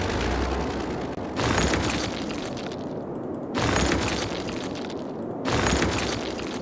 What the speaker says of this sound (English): This fucking boulder busting sound.